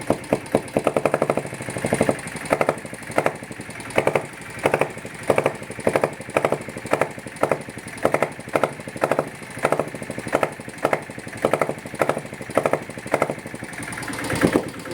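A Bullet diesel motorcycle fitted with an aftermarket exhaust setting idles close by, its exhaust thumping in a steady, evenly spaced rhythm of loud pulses that runs the whole time without a break.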